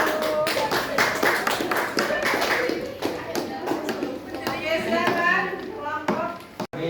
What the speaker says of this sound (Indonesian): Tepuk tangan buat nomor 1.